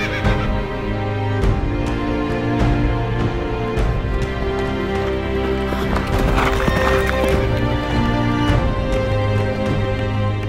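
Horses racing at a historical reenactment event, a loud continuous drumming of hooves with neighing mixed in, under a busy crowd and background music-like tones, with voices audible throughout.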